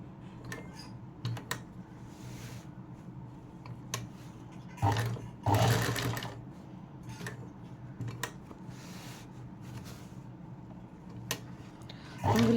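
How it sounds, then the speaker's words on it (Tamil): A sewing machine stitches slowly along the curve of a neckline. Short bursts of fast, close mechanical whirring come in several runs, with light clicks and pauses between them. "அந்த கர்வ்ஸ் எப்படி கொடுத்துருக்கீங்களோ அது மேலேயே ஸ்டிச்சஸ் போட்டே வாங்க."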